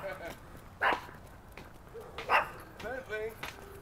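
A dog outdoors in a park at dawn gives a few short barks and yips, spaced irregularly and moderately near, over quiet background noise with footsteps and soft voices.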